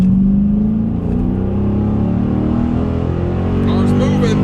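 Dodge Challenger Scat Pack accelerating hard in a 60-130 test run, a deep loud engine roar from inside the car rising steadily in pitch, with a voice speaking briefly over it.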